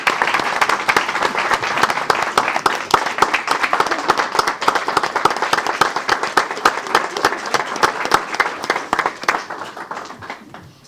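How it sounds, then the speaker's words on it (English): Dense, sustained applause from a crowd at a city council meeting in Temple Terrace, steady and fairly loud throughout, then thinning out and fading near the end. "Let's give her a round of applause."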